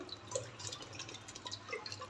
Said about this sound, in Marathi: आपण एका पाण्याने आधी स्वच्छ धुवून घेऊया